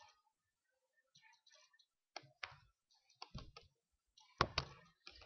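Sharp computer mouse clicks on a quiet desk, a few isolated clicks followed by a quick cluster of close, crisp taps, with a louder pair near the end and near silence between.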